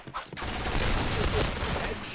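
Rapid automatic fire from an HK gun in the shooter game Point Blank, a dense, continuous burst of shots held for about two seconds, loud and close, with a brief quieter moment at the start.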